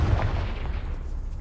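A Confringo blasting spell explodes in Hogwarts Legacy, giving a dense, low booming rumble that rolls on steadily for a second and a half with no voices over it.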